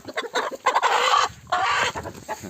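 A hen squawks loudly and close in a coop, in harsh, ragged bursts broken by short pauses, with clucking in between.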